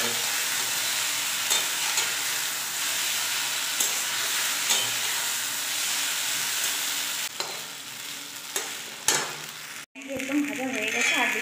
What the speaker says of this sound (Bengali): একদম ভাজা হয়ে গেছে, আর বেশি ঘাটাঘাটি করবো না এটাকে